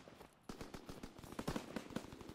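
Rapid automatic gunfire in the Call of Duty WW2 video game, a quick irregular string of sharp shots starting abruptly, fairly distant and faint.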